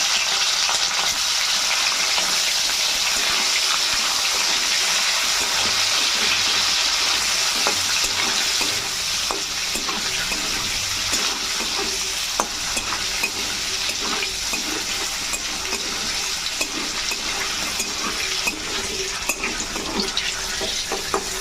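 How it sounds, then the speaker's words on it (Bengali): Paneer cubes frying in a pan for palak paneer, a steady close sizzle with crackling pops and occasional clinks of a spatula running throughout, no voices. "বাদ বাকি পনিরগুলো ভেজে নেবে"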